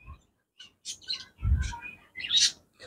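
Budgerigars bathing in water give a quick series of sharp chirps and warbling calls, close and fairly loud, with pauses between bursts.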